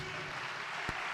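A church congregation applauds, a faint, dense patter of clapping from a distance with one sharper clap standing out near the end.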